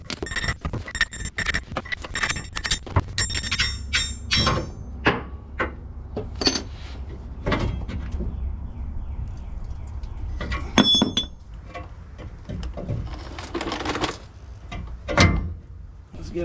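Sharp metallic taps and clinks ring out in irregular bursts as a hammer knocks leveling keys loose on a Chevrolet Silverado, loud and close, with scattered clanks and short pauses between strikes.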